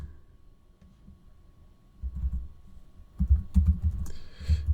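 A file name being typed on a computer keyboard: a quick run of close key clicks that grows busier and louder toward the end, with no one speaking.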